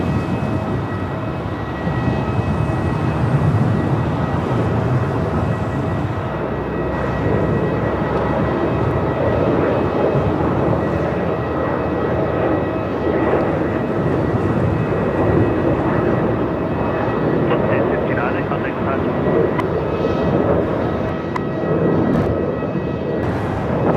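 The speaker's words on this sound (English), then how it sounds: "let's quickly catch this departure" A plane departing Melbourne Airport produces a sustained, loud engine roar and broad rumble that holds steady for over twenty seconds with no talking.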